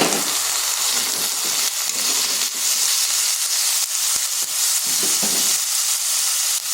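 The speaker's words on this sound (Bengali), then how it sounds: "এরপর এখানে দিয়ে দিচ্ছি আলুগুলো।" Potatoes added to lightly fried onions sizzle steadily in a pan while cooking Bengali shojne phooler chochhori (drumstick flower dish), a continuous close frying hiss with occasional crackles and no talking.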